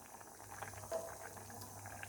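Dal simmers in a pot on a low flame, a faint, continuous bubbling hiss with small pops throughout, alone with no talk.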